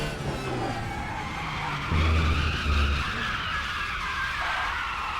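Race car tyres scrubbing and squealing in understeer in the RaceRoom racing game, a steady high skid whine over a droning engine that swells louder around the middle of the clip.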